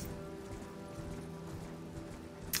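A horse gallops in the video game Elden Ring, its hooves making a faint, steady clip-clop rhythm over a low background hum.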